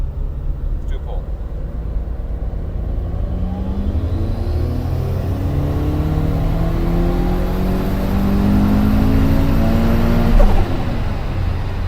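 Subaru STI engine on a dyno during a pull, revving steadily upward in a loud rising drone with climbing harmonics before peaking sharply near the end and dropping off, close and dominant.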